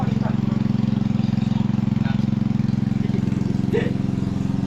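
A motorcycle engine idles steadily and close by with a constant low throbbing drone, heard while the bike is being moved out of sight, with some faint background activity over the engine.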